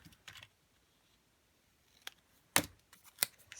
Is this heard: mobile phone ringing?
no